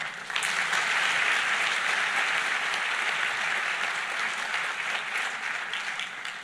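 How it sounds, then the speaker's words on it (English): Sustained applause from a large crowd at a PhD graduation ceremony, dense and steady clapping that fills the whole stretch without pause. "And a round of applause to yourselves."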